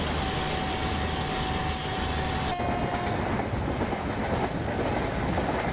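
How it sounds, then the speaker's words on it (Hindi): A freight train hauled by a blue ALCO locomotive rolls past a level crossing, its loud steady rumble and wagon clatter filling the scene, with a sustained horn-like tone in the first few seconds. "ये एक ब्लू कलर का एल्को लोको के साथ ये फ्राइट ट्रेन जा रही है"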